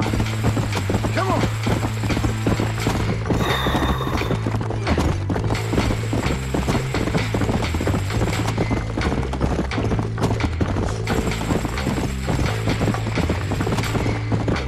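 Horse hooves clip-clop steadily along a road in the Red Dead Redemption video game, a continuous rhythmic trot under a low droning background and game ambience, with brief breaks in the texture.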